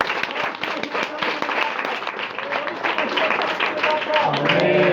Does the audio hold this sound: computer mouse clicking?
no